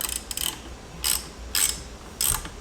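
A ratchet snugs down 15mm bolts while fuel-system parts are installed on a Cadillac ATS-V, heard as three or four short rasping ratchet bursts with brief pauses between them, close and fairly quiet, with no talking.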